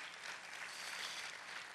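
A church congregation gives applause during a sermon, a faint, even wash of clapping heard from a distance with no talk over it.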